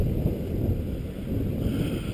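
Strong outdoor wind buffets the microphone in a steady low roar for about two seconds, with no other sounds heard.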